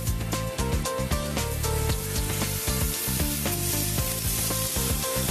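Quail grilling over a low fire, a steady crackling sizzle running throughout under fairly loud background music.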